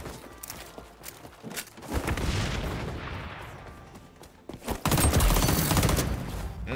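Rapid M16 rifle fire in the XDefiant shooter game, bursts of sharp repeated shots running nearly throughout, loud and close, with a brief lull before a heavier final volley.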